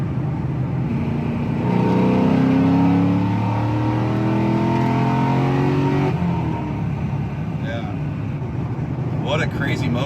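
A new Corvette engine revs and pulls hard under acceleration, a loud steady roar rising in pitch, with people talking inside the car over it.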